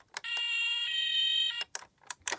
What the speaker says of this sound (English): Here we have my ladder fire truck with lights and sounds.